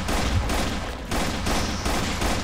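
Rapid repeated blasts from a space shotgun in the video game Capsized, a dense continuous barrage of loud gunfire bursts with short dips between volleys and no talking.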